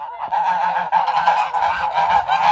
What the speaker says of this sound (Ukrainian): він не пускає, шипить, кидається, кусає. Такий хитрий гусь.